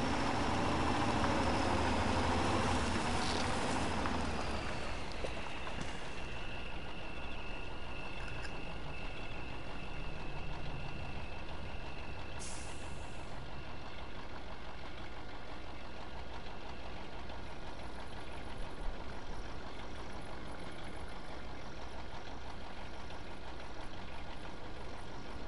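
Truck engine in the MudRunner video game grinding over tree stumps, a steady loud drone with a knocking, rumbling edge that runs throughout, heavier at the start and then settling into a constant growl.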